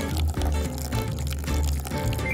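Water poured from a vessel onto a freshly planted seedling, a steady splashing stream running continuously and fairly loud from start to finish.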